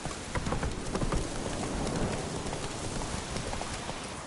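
A horse galloping in the video game The Witcher 3, with rapid, soft hoofbeats in a steady rhythm and some faint texture in the background.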